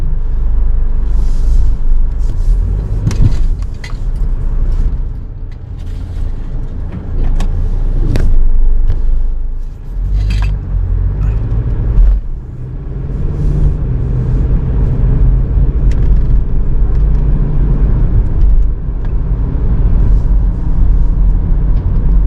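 A car drives along the road in Australia, its steady low engine and tyre rumble filling the cabin continuously, with a few brief clicks and knocks rising above the drone and no one talking.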